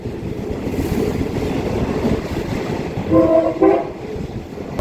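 A State Railway of Thailand passenger train runs with a continuous rolling rumble and rattle, heard from on board, and a brief horn blast sounds near the end.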